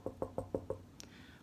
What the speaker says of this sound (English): So he knocked on the door